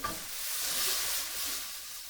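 Vegetables stir frying for chow mein in a wok over the highest gas flame, a loud continuous sizzling hiss that swells and eases slightly as the food is tossed, with no talking.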